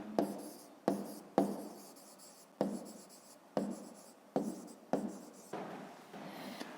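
Pen strokes on paper while working a fifth-grade maths exercise, a close scratching sound in about eight short rhythmic bursts, each starting sharply and fading, with no talking.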